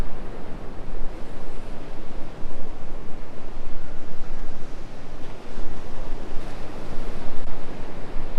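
Ocean waves and wind on a chilly beach produce a continuous loud roar of surf with gusty wind buffeting the microphone, and no one talks.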